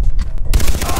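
A mounted machine gun in the shooter game Far Cry 3 fires rapid, dense bursts, sparse at first and then sustained and loud.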